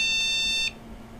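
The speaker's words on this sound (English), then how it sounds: "Took the first DIMM module out, and now we're getting a beep error" An old computer that has been stored in a shed, with one DIMM memory module removed, gives a short high electronic error beep that cuts off, leaving a low hum.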